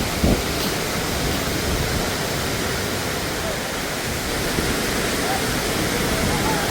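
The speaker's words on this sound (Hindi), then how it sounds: "पानी ये बहता हुआ उड़ता हुआ कहूँगा ये आके गिर रहा है मेरे पर" Vasudhara Waterfall near Mana Village roars in a steady, dense wash of falling and spraying water, loud and continuous throughout, with mist drifting over a listener seated some distance away.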